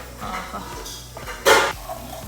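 A native cucumber is sliced with a knife for salad, producing a steady series of light tapping chops against a board, close up, with one louder clatter in the middle.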